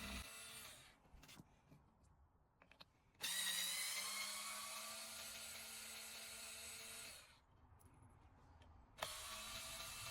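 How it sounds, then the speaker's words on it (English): A small electric screwdriver from a compact smart-home and IT toolkit whirs close up in short bursts as screws are backed out, with a longer steady run in the middle and quiet gaps between. "let's try to unscrew all of these and see if the threads are clean"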